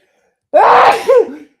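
A single loud, close sneeze bursts out after a moment of silence, ending with a short vocal tail.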